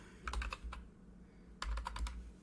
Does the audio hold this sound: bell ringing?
no